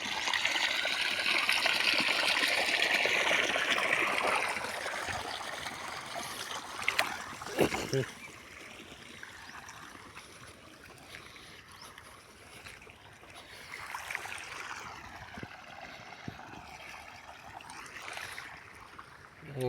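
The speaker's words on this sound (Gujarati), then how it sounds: "અહીંયા આપણે બોરને મોટરનું પાણી આવે" Water from a borewell motor flows through an irrigation channel in a wheat field, making a steady rushing gurgle up close that is loudest at first and then settles into a softer trickle.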